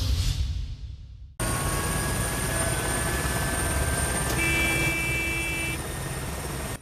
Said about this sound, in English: Strapped into a Fennec military helicopter, we lift off over the Orléans-Brissy airbase in central France.